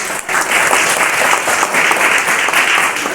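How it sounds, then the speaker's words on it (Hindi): Loud, dense applause from a large seminar audience fills the room steadily and close by, without pause, for a few seconds. "हम इन तीनों के लिए आप लोगों से एक बार जोरदार जो की तालियों से"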